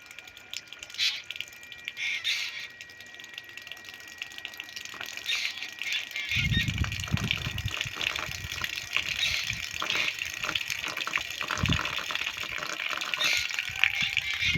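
Water runs from a tap during a time of water shortage, a steady gushing flow that grows fuller and louder about halfway through, with low rumbling surges under it.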